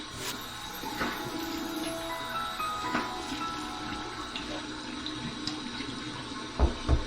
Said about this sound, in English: Here's the warm water rinse.